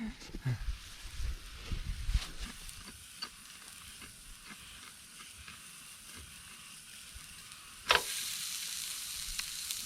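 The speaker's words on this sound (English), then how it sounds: "Let that sizzle away for a bit." Fish and chips sizzle in a hot pan with a steady crackling hiss, occasional stirring scrapes and a louder burst of sizzle toward the end.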